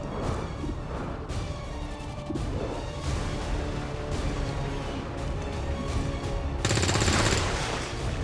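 Rapid bursts of soldiers' gunfire in the XCOM 2 War of the Chosen video game, dense overlapping shots and crashes, with a louder, brighter volley near the end.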